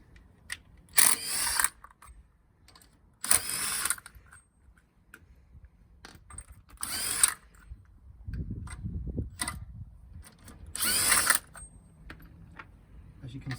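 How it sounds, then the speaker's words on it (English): A Makita impact driver removes wheel nuts on a Land Rover Discovery TD5, with four loud, close bursts of rattling hammering, each lasting under a second and separated by quiet pauses filled with faint handling noise. "It's a Makita impact driver, they're about 120 quid."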